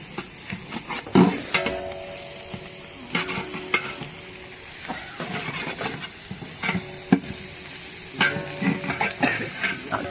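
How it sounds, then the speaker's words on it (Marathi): Garlic and green chillies frying in a pan for a dahi mirchi dish, a steady sizzle with stirring scrapes and a few louder clinks of the spatula against the pan, close and clear, with no talking. "थोडा लसूण टाकून चांगला लसूण पण फ्राय करायचा आहे आपल्याला."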